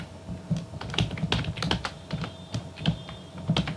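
Typing on a computer keyboard while entering a spreadsheet formula: a quiet, irregular patter of close key clicks with a few firmer presses, steady throughout with no talk.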